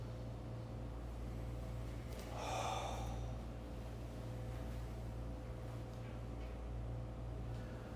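A single deep, airy inhale during a kundalini yoga flow for the sacral energy center, swelling briefly in the middle of a steady low room hum.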